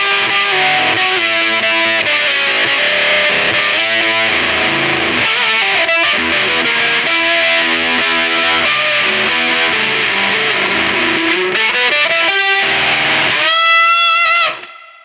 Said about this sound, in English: That's just the pedal on its own.